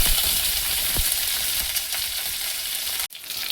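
Green chilies and curry leaves sizzling in hot oil along with cumin and fenugreek seeds, a loud continuous crackling fry up close with small pops, cutting off briefly near the end.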